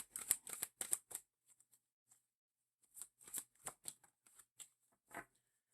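Tarot cards being shuffled and drawn, heard as several quick, close riffling bursts with short pauses between them and a final single flick; no one speaks.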